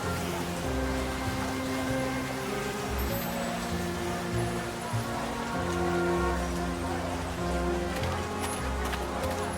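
Constant hiss of rain falling on surfaces, even and unbroken, layered over low sustained ambient tones, in the video game World of Goo 2.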